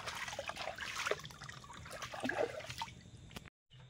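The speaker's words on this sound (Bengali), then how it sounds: "কচু ধুচ্ছি, মা তো ওল ধুয়ে নিয়েছে, হলুদটাও ধুয়ে নেব।" Water trickles and splashes while taro root is washed outdoors, steady dribbling with small splashes, then a brief silence before it resumes.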